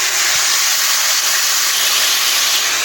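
Fish curry with potato and cauliflower bubbles and hisses in a pan, a loud, steady broadband sizzle heard close up for a few seconds without any talking.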